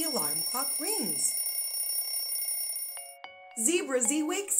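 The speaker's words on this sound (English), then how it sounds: "The alarm clock rings." An alarm clock ringing in a children's story, a bright steady electronic ringing tone under a narrator's voice that breaks off, followed by a few sharp clicks.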